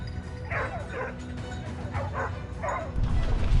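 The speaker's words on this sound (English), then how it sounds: "the barking of hunting dogs signaled the prey's position" Hunting dogs bark in short bursts of two or three yips, somewhat distant, over a low, steady rumble, during a wild boar hunt in a field.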